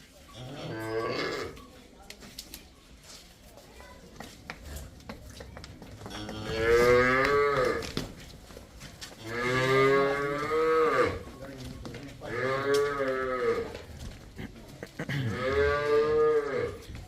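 A cow at a dairy farm moos repeatedly, a series of long, loud, near calls at a steady pace, with faint voices in the background.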